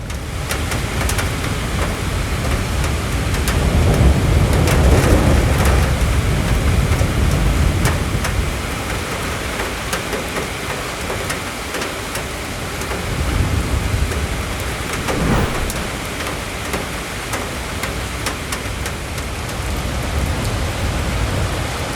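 Heavy rain pours down steadily in a dense, hissing wash, with occasional louder gusts and a low rumble underneath.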